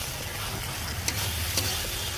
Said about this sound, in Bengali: এখন ভালোভাবে নেড়ে নেব।